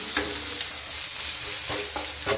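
Onions fry in a pan as paste is stirred in until lightly browned: a steady, close sizzle with scraping strokes of the spoon at irregular intervals, and no talking.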